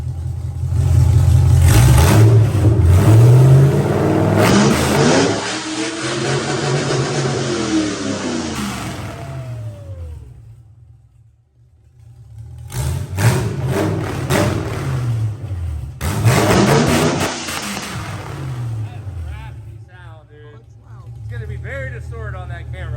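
A JH Gasser engine with zoomie headers and a nitrous setup revs hard in loud, rising bursts separated by a near-silent pause, then settles into a rough idle.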